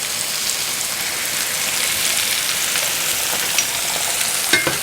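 Sliced portobello mushrooms sizzle in a pan over medium heat, a loud continuous hissing crackle like rain close up, with a few sharper pops toward the end, no talking.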